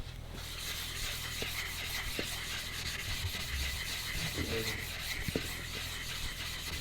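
A blade being sharpened on a 1000 grit stone in a woodworking workshop, giving a steady, faint rubbing and rasping texture over a constant low hum, with a few soft knocks.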